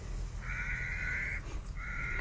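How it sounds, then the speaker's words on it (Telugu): A crow caws twice nearby, two drawn-out harsh calls separated by a brief gap, over a low outdoor background hum. "అది కాకి అది కాకి"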